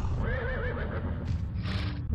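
A horse gives a wavering, drawn-out whinny in the video game Limbo of the Lost, loud and close over a low background rumble, with no one speaking.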